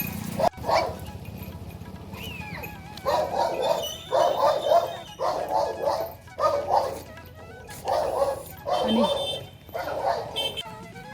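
A dog barks and yips repeatedly in short bursts, fairly close, with brief pauses between the barks and faint voices in the background.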